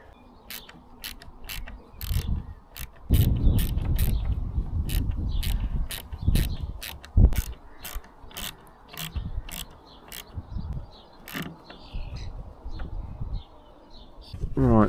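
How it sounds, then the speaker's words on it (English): Ratchet clicking in quick bursts while bolts are tightened back into the sunroof glass of a 2017 Mercedes A-Class, close and steady over low rumbling handling noise. "all we need to do now is put those 4 bolts back in again"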